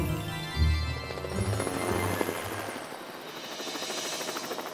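A cartoon helicopter's rapid rotor thumping churns under a rising whine, steady and fairly loud throughout, with a cartoonish mechanical flutter.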